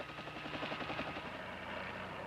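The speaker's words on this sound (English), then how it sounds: "A helicopter is used to spray trees on large tree farms." A helicopter spraying trees on a large tree farm, its steady rotor thrum and engine roar loud and continuous, with a rhythmic chopping pulse running throughout.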